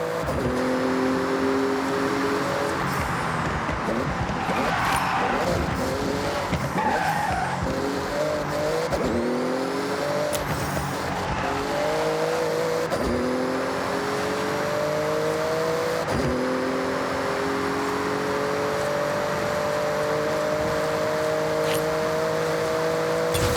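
A Porsche in the Forza Horizon 6 racing game tears through a speed zone, its engine loud and steady with rising gear-shift sweeps and brief tire squeals, no voices over it.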